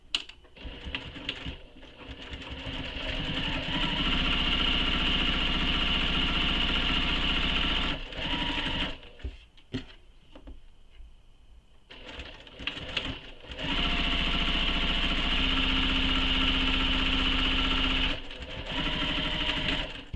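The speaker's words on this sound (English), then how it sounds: "So I'm just top stitching the long edges." A sewing machine top-stitches the long edges of a handmade satchel in long, steady whirring runs, close and loud, broken by two short pauses filled with faint handling clatter.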